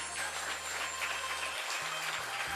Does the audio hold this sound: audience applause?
yes